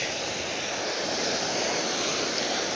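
Waves and wind at Mangamaripeta beach roll together in a continuous, loud, broad surf roar with steady wind noise against the microphone and no distinct breaks.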